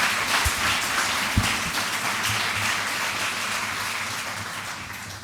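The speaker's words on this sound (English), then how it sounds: "There'll be more of that clapping in a moment." Steady, dense applause from a large audience at the Norman Foster Institute 2024 commencement ceremony, filling the hall evenly, with a couple of sharper knocks near the start.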